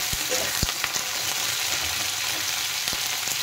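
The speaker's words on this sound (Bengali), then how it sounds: "আলু আর ফুলকপি ভাজা হতে থাক" Potatoes and cauliflower frying in a pan, a steady close hiss of oil with a few sharp crackles and pops scattered through; no talking.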